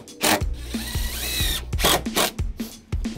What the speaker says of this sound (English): let me throw a few screws in this and straighten it out